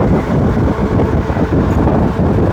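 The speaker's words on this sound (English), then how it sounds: "super windy today" Loud, strong wind buffeting the microphone while riding a dual-motor electric bike, a constant low roaring rumble with no pauses.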